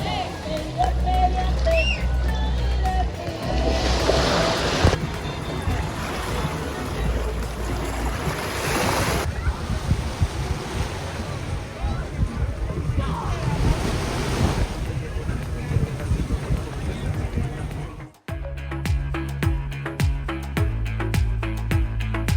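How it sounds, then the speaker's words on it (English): Ocean waves and strong wind at Puerto Nuevo Beach, Vega Baja, Puerto Rico: a steady, loud roar of surf with heavy wind buffeting the microphone and snatches of talk mixed in. "Now we are on the left side of the beach."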